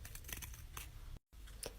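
Scissors snipping through paper to cut slots for a homemade paper fidget toy, a few close, quick crisp cuts and rustles with a brief silent gap near the end.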